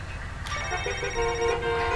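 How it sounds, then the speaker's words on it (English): A phone chimes in the video game Knee Deep, a bright electronic ringtone entering after a short pause and sustaining its layered tones through the rest of the moment over low background rumble. "Phone chimes again"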